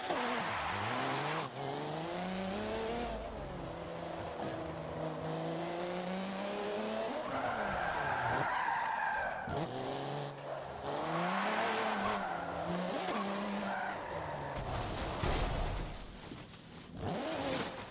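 A car engine in a drifting racing game revs hard near the limit in second gear, its pitch climbing and dropping repeatedly, with tire squeal and skidding mixed in, loud and continuous.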